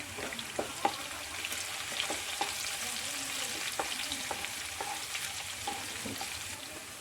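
Curry leaves fry in hot oil with a steady, bright sizzle and crackle, broken by sharp pops and spits scattered through the stretch. Close and fairly loud, with no voices.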